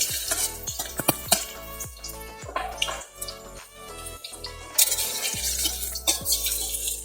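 Garlic hits hot oil for a chicken and mushroom stir-fry, sizzling loudly and close while a utensil repeatedly clinks and scrapes against the pan in an uneven rhythm.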